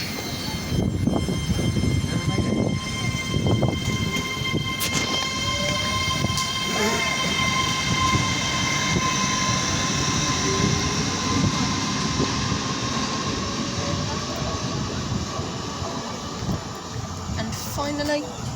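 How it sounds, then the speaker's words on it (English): A CrossCountry passenger train pulls into Bristol Parkway station with a rumbling, clattering approach and squealing tones, a horn-like note heard briefly, while announcements and talk carry over the platform noise. "finally comes ours with the 13:09 cross-country service from Bristol Templemeads to Glasgow Central via Birmingham New Street"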